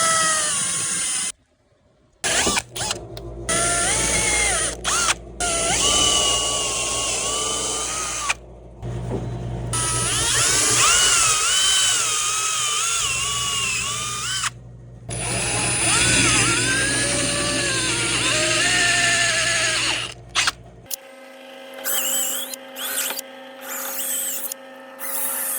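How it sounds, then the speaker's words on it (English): A power drill bores out rivets on snowmobile track slides, whining loudly in several long bursts with short pauses between them, then a quieter mechanical hum near the end. "These are actually riveted in. So I gotta drill all these out"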